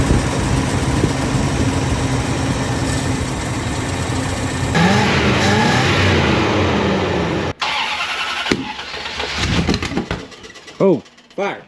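An old Chrysler Newport with a 383 engine, abandoned for four decades, cranks and sputters into a rough running idle with uneven revs before cutting out, loud and close, with people talking over it.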